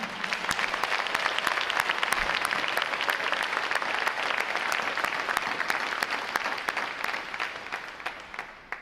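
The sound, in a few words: applause for Recruit Training Command at Navy graduation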